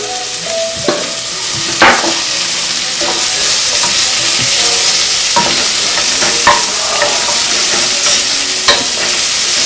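Shallots sweating in a hot pan with thyme and rosemary, a loud continuous sizzle broken by repeated scraping and clinking of a utensil stirring against the pan, close up and without talk.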